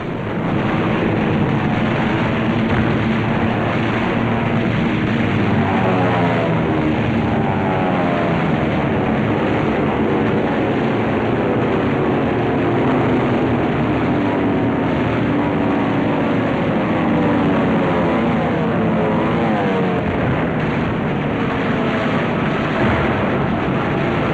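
World War II carrier aircraft dive in to attack Truk, a loud, steady propeller and engine roar that fills the whole stretch without a break, with no voices.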